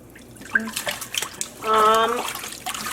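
Yarn being dipped and sloshed in a basin of rinse water while dyeing it with leftover sprinkles, a short burst of splashing and dripping in the middle, with quiet handling noises before and after.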